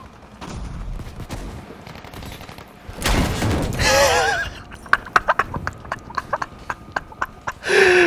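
Video game gunfire rattles out as a burst of loud sharp shots mid-clip, surrounded by horse hoofbeats, whinnying and other game action.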